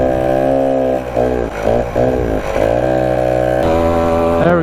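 A Rokon 2x2 motorcycle engine runs on half choke, a steady loud buzzing drone that dips and surges in revs several times before settling into an even, strong idle.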